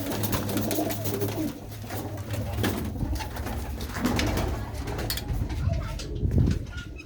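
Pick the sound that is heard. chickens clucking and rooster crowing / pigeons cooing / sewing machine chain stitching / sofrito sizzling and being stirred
pigeons cooing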